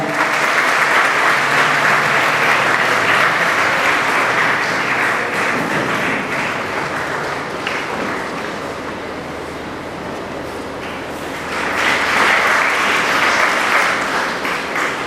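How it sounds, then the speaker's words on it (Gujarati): A crowd claps loudly and continuously at a school organ donation awareness event at Vidyamanjari School, the applause dipping slightly midway before swelling again. "તાળીઓના ગડગડાટ સાથે આપણે"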